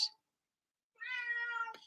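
A cat gives one clear, drawn-out meow that rises and falls, heard close and alone after a short sharp sound and a moment of silence.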